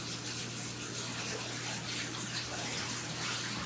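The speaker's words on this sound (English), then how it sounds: "Wow, that was a really well-timed flush." A toilet flushes in a steady, broadband rush of water that runs throughout at moderate level, with a low hum underneath and no voices.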